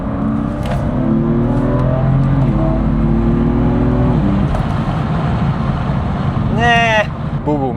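A car engine revs and shifts into third gear while driving fast, a steady loud drone with rising pitch sweeps, and a voice talks over it near the end.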